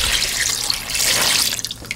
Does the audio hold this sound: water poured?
yes